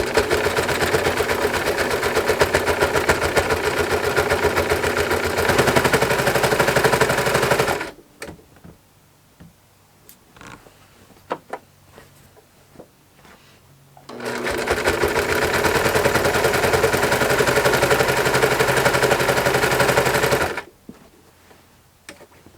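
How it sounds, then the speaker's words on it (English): A domestic sewing machine stitches in the ditch through the layers of a baby quilt, running in two long, steady, rapid bursts separated by a pause filled with small clicks and handling noises. "and we start sewing"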